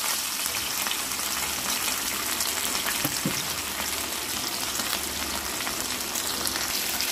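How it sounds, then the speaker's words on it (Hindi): Cut potatoes sizzle in a hot pan under a lid, a loud, steady frying hiss with a few soft clinks and no talking. "जो ये आलू हमने कट करके रखे हैं, वो हम इसके अंदर डाल देंगे और लीड लगाकर ढक देंगे"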